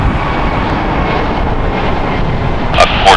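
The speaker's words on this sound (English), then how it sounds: "American Airlines Flight 811 going to Miami. It is an Airbus A321 Neo." An American Airlines Airbus A321neo departs LAX with a steady, loud jet engine rumble, joined near the end by a couple of brief sharper bursts of noise.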